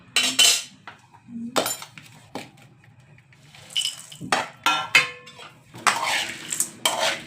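A spoon clinks and scrapes against a bowl while tossing homemade bhel chivda, in repeated short bursts of clatter with brief pauses between, close and fairly loud.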